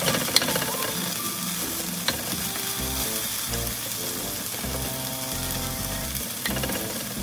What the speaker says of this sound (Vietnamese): Giờ mình đảo đều cái ớt lên như vậy nha.